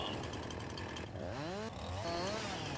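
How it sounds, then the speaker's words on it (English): A chainsaw in the video game Farming Simulator 19 runs loudly and up close, with a brief dip in the engine note followed by rising and falling revs, alone without talk. "when you pull out the chainsaw"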